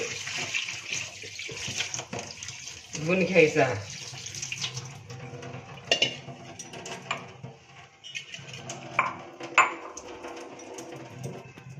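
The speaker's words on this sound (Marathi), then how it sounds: "आपण आता हा सांजा धुवून घेऊया. असं चाळणीत घालायचं आणि असं पाणी घालून" Water poured over semolina (sanja) in a strainer to wash it, giving uneven splashing and trickling in bursts, with someone speaking over it.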